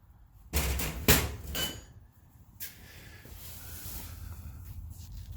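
A few close metallic clunks sound as a gear slides off its shaft while a Highlifter gear reduction kit is being fitted, followed by quiet workshop background.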